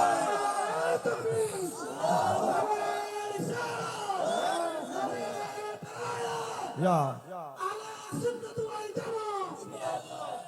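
A large religious gathering's crowd roars back in unison after a takbir call at an Islamic sermon, a sustained loud mass shout with overlapping voices, rising and falling in several waves across the whole stretch.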